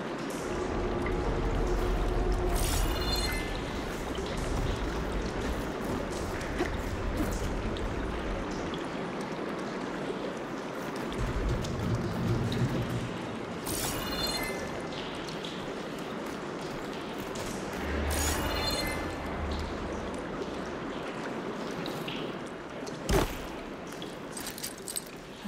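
Water circulating through pipes in the video game Horizon Forbidden West, after a valve is opened: a continuous rushing, gurgling flow with several louder surges and sharp metallic knocks.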